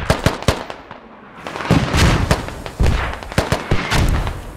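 Mortar fire and explosions in the military shooter game Squad, a rapid string of sharp, loud booms and cracks, some close and some more distant, continuing over rumbling battlefield noise with no talk.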